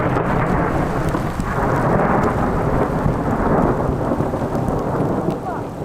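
Heavy rain pours steadily outdoors with rolling thunder, a dense continuous roar close around the listener with no talk over it.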